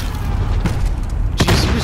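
Shotgun blasts in the Call of Duty video game, two loud booming shots about a second apart, sharp and close over constant game noise.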